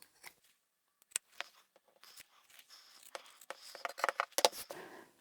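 Scissors trim the curved edge and corners of a sewn fabric pouch made from reclaimed fabric, giving a quiet, close run of short, crisp snips in irregular bursts with no voices.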